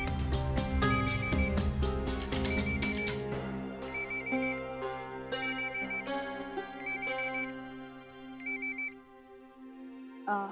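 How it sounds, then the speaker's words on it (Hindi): A telephone rings with a repeating electronic ringtone pattern in regular bursts over a musical background score, with no talk. "पापा, सरीन अंकल का फोन है।"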